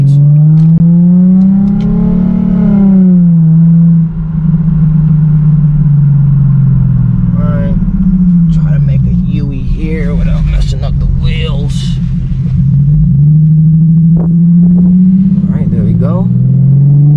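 A 2008 Infiniti G35 pulls hard in race mode 9 of a Sprint Booster throttle controller, its engine note droning loud and rising and falling in pitch through the run while someone talks over it.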